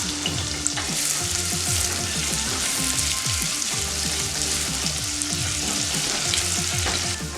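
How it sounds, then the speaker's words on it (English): Garlic and onions sauté in a hot pan for a Jamaican coconut rice, a dense, steady sizzle and crackle with occasional stirring, loud and close throughout. "So therefore we need to saute the seasonings."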